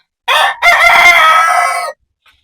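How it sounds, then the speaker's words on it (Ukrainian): A rooster crows loudly and up close, one brief call and then a longer drawn-out crow, alone against silence. "кукарекаєш, безтолковий півень попався"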